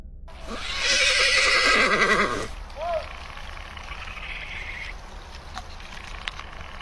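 A frightened horse whinnies loudly and close, a single long shaky neigh rising over steady outdoor background noise, followed by a faint short snort and quiet ambience.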